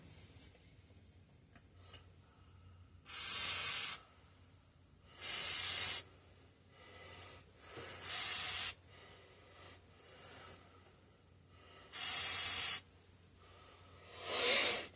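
Short hissing bursts of penetrating fluid sprayed from an aerosol can onto the old carburetor of a 1950s Bolens Power Ho garden tractor, six separate blasts of one to two seconds each, close and distinct over a quiet background.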